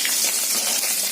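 Four small puti fish (barbs) frying in a pan in a home kitchen, giving a steady, close, loud sizzle with a continuous hissing crackle and no pauses.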